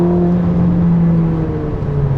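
Ferrari SF90 Stradale hybrid hypercar engine, a steady droning hum with a sustained tonal whine, heard from inside the cabin with no talk, holding a fairly even pitch and level.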